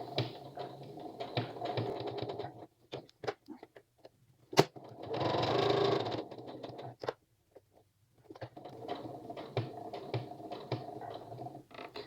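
A sewing machine stitches fabric for a toiletry bag in bursts, with rapid needle patter from 0 to 2.6 s, a steadier louder run from 5 to 7 s, and a final stretch from 8.5 s to the end.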